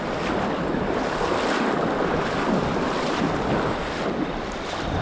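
Floodwater pours through river rapids in a steady, loud roar of rushing water, a continuous broadband wash with wind buffeting the microphone and no voices.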